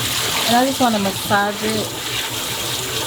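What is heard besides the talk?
cold tap water running to wash greens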